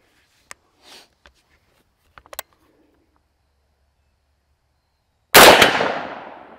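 A single loud .350 Legend rifle shot bursts out near the end, with a sharp crack and a long decaying tail. Only faint clicks and small handling noises come before it.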